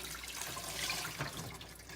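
Water splashes and gurgles into a sink in a short, continuous pour, fairly faint and close, with no voices.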